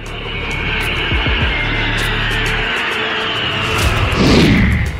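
An Indian Air Force jet during the Tarang Shakti 2024 exercise roars past with a broad, rising rush of engine noise, swelling loud toward the end as it sweeps overhead.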